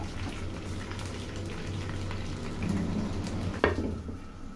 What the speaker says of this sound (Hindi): इसमें हम चिकन डाल देते हैं ताकि चिकन भी फ्राई हो जाए।